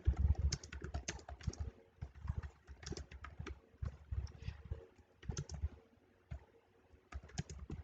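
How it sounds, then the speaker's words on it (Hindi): Rapid bursts of typing on a computer keyboard while entering text into a spreadsheet cell, with clustered clicks and short pauses between runs of keystrokes, close and fairly quiet. "मैं और भी टेक्स्ट लिखता हूँ"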